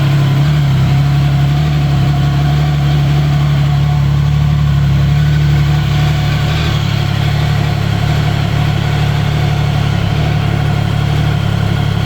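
A Triumph Sprint ST 1050 motorcycle idles steadily and loudly with a constant low rumble, its engine running without revving for the whole stretch.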